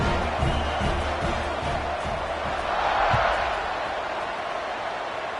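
A football stadium crowd murmurs and roars steadily before kickoff, with a brief swell of cheering near the middle and a few sharp thumps early on. Faint talk sits under the noise.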